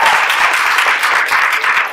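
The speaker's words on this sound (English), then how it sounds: "I thought you were clapping" Sustained applause from an audience at a panel event, steady dense clapping filling the whole stretch at fairly close range with no voices over it.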